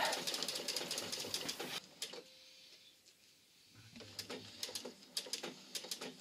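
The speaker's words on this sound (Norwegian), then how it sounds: "jeg syr bort til jeg treffer sømmen fra den forrige sirkelen, og så fester jeg tråden" A sewing machine stitches curved circular seams on fabric placemats, running in quick rhythmic bursts with a pause in the middle where it falls nearly quiet before stitching resumes, fairly faint and alone.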